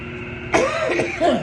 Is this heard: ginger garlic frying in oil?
no